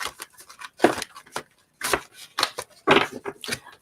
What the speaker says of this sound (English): I'm going to go ahead and shuffle the deck here